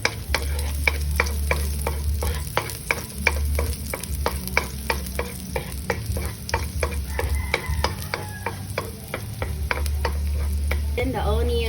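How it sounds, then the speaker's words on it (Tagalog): Garlic sizzles in a hot pan under a rapid, regular series of utensil scrapes and taps from stirring, the frying hiss steady throughout and close by. "First, saute the garlic."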